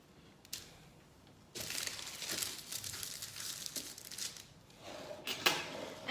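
Parchment paper lining a tray crinkles and rustles close by, with a few sharp crackles early on and then a sustained stretch of crumpling that fades and flares again near the end.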